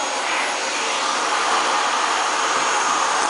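A household vacuum cleaner runs steadily and loudly from start to finish, a constant broadband whooshing roar with no pauses and no voices over it.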